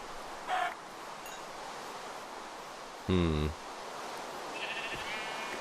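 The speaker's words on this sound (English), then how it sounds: "Perhaps I should stop killing all the chickens I find." Chickens cluck and squawk in a video game, with a few short, separate calls over a steady hiss of rain.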